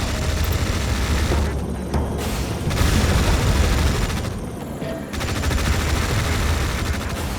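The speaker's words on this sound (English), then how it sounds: "Hostiles in range. Opening fire." Dense, continuous gunfire and explosions from a Tom Clancy's EndWar battle fill the mix, a loud unbroken roar of shots and blasts that swells and dips over several seconds.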